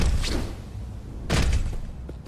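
Two heavy, muffled shots in Crackdown 2 fired at a captive freak, spaced about a second apart, each a loud low thump with a brief tail.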